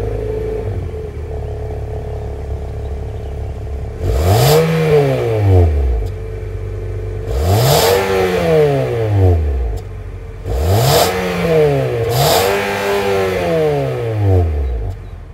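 A 2024 Nissan Altima's 2.5-liter naturally aspirated four-cylinder with dual exhaust tips revs up three times, each loud surge rising and falling back to a steady idle between bursts.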